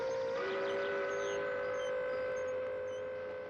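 A train pulls out carrying Red Army recruits bound for the front in spring 1943, a steady rumble under a long sustained whistle or horn tone that holds loud throughout and eases slightly at the end.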